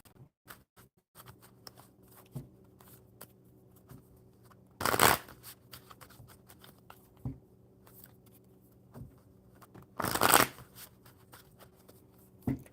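Tarot cards being shuffled nearby: two loud riffling bursts separated by quieter taps and handling sounds, with a faint hum underneath.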